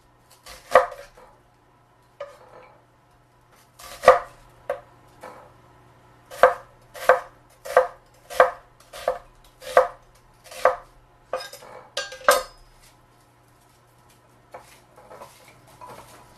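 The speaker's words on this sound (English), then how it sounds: "I just like to cut these into thin julienne pieces. This is 1/2 of a large onion." A knife chops half a large onion into thin julienne strips on a cutting board for Tuscan soup: sharp, close, evenly spaced knocks in a quick series, with scattered single cuts before and after.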